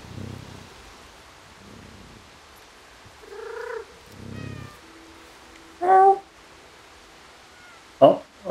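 Cat meows and purring from the video game Stray, a low purr early on, then several separate meows of varying length spread out with quiet gaps between them, close and clear.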